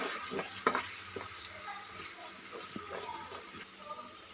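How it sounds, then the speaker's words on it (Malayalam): Ginger garlic paste sizzles and fries in hot oil for a Thalassery dum biryani, with steady bright hissing broken by scraping stir strokes of a spoon in the pan, close and alone. "ഇപ്പോൾ ആ എണ്ണയിലേക്ക് നമുക്ക് ഇഞ്ചി വെളുത്തുള്ളി പേസ്റ്റ് ഇട്ട് കൊടുക്കാം"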